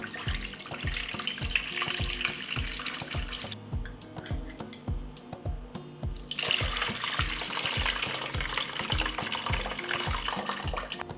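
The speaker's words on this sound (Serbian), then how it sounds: "tečnost iz tegle sipat ću u jednu šerpu" Liquid from preserving jars being poured into a cooking pot during home canning, a continuous splashing stream with rapid gurgling pulses, briefly pausing midway before resuming, close and fairly loud with no speech.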